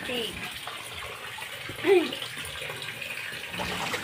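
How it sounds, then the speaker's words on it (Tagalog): A very dirty, muddy net rinsed in greenish water, heard as a continuous watery swish and gush with one brief louder splash midway, while a person talks over it. "Kaya atin lamang itong babanlawan hanggang sa luminaw"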